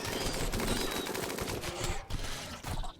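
Repeated shotgun and gunfire from a firefight against bugs in the colony game Rimworld, a fairly quiet, rapid string of bangs and crackles that briefly drop out and resume near the end.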